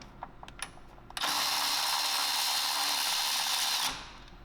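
Power tool spinning out 10mm bolts that hold a plastic frame cover on a Toyota Tacoma. After a few light clicks, a loud, close whirring burst runs steadily for nearly three seconds, then winds down.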